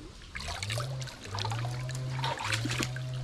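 Water flows and trickles along the bank of a river, a close bubbling, gurgling stream with a low humming tone underneath, steady throughout.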